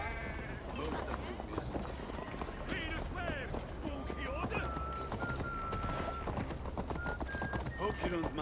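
Horse hooves clip-clop steadily in a video game, a rhythmic trot running under layered ambient game sound, animal bleats and a voice speaking.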